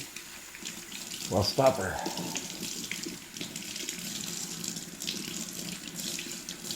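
Tap water runs steadily into a sink while hands are washed, a close, continuous splashing rush with a brief louder gush near the start and a few quiet spoken words.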